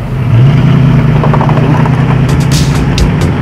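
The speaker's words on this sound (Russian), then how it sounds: "Звук мотора приятен на слух, но при этом он не шумный." A Ford Crown Victoria LTD Country Squire engine hums steadily at a low pitch, smooth and moderate in loudness, with a few faint ticks near the end.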